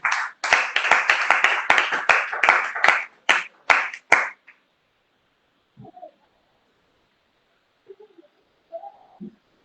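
A church congregation claps together in acclamation, a brisk run of loud rhythmic claps lasting about four seconds, then near silence with a few faint distant chirps.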